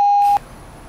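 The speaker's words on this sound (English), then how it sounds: "Really? That gets beeped?" A short, loud, pure-tone censor beep covers a word, then cuts off abruptly into quiet room tone.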